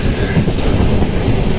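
Panchaganga Express rolling on the rails near Bhatkal, a loud, steady rumble of wheels and carriages with continuous low clatter throughout, no voices.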